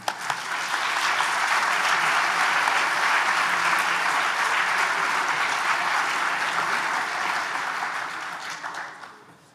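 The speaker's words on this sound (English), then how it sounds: "I think we owe these gentlemen here a round of applause." Sustained applause from a summit audience after a concussion presentation, loud and steady for about nine seconds before fading out at the end.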